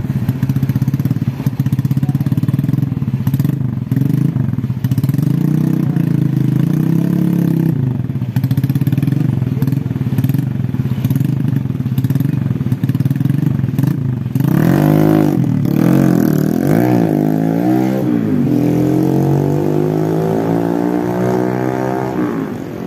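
A stock Yamaha Vega R New motorcycle engine drones loudly at idle, then revs up and down in rising and falling sweeps before settling again.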